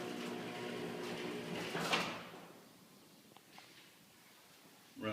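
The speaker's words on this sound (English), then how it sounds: "See, when the door opens up" A hi-lift garage door on a retrofitted track with a jackshaft opener rolls open with a steady mechanical rumble and rattle over about three seconds, then fades to quiet with a few faint clicks and a short thump at the end.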